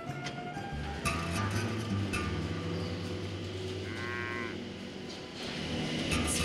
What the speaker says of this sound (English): I am getting ready to milk our cows.